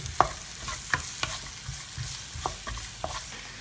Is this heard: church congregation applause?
no